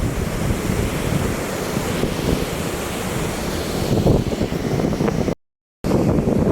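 Steady wind gusts roar across a seaside spot with waves washing the shore, loud and continuous with a brief dropout near the end; nobody speaks.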